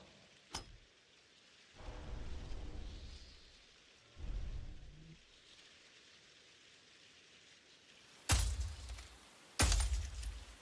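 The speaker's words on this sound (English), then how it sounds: "this one you can hear the rain" Rainfall in the video game Godforge with crashing thunder: a sharp crack near the start, rumbling rolls midway, then two loud bursts near the end over a steady rain hiss.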